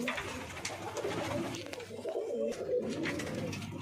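Pigeons at a fancier's loft in Uttar Pradesh, including a 15-16 year old bird, coo in low throaty rolls, close and continuous with some bird rustling.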